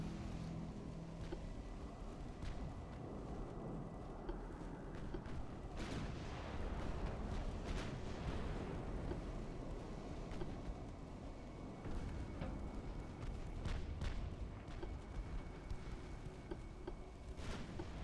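Battleship guns fire in the naval combat game Ultimate Admiral Dreadnoughts during a battle against torpedo boats. Repeated booming shots rise out of a dense, continuous roar of battle and engine noise, with no voices.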